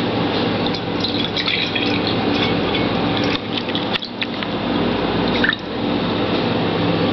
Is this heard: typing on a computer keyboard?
no